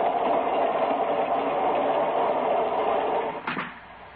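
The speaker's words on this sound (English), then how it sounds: "The train lurched." A passenger train rolls along the tracks with a steady, dense rumble that lurches and drops off near the end, heard alone without talk.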